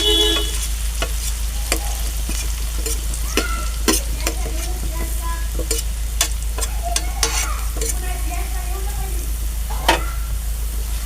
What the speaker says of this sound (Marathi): कांदा आपण पहिला परतून घेऊ.